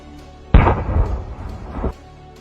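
A TNT explosive charge strapped to a dog detonates in one sudden heavy blast, a deep rumbling burst that lasts over a second before cutting off, with no voices.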